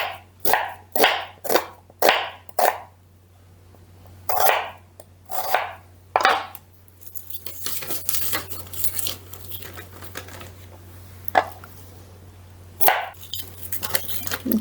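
A knife slicing onions on a board: a quick run of crisp evenly spaced chops, a pause, then a few more strokes, followed by softer rustling and handling with an occasional further cut, close and clear.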